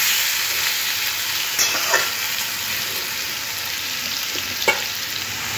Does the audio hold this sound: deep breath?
no